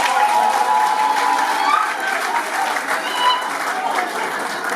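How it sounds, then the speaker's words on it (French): Wedding guests in a town hall clap loudly and steadily, a dense burst of applause with a few cheers that holds at an even level from start to finish. "On applaudit pour répondre."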